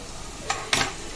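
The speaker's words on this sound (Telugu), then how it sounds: "సో ఒకసారి కలిపేసుకుందాం." Ingredients with turmeric are stirred in a wide pan on the stove for a tomato egg curry, giving two brief scraping strokes with soft sizzling beneath, near and fairly quiet.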